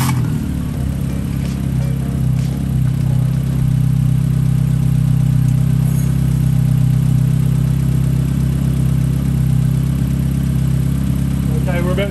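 A Hyundai Excel engine starts and idles steadily with a low, droning rumble that holds for the whole stretch, loud and close, with faint mechanical whirring on top.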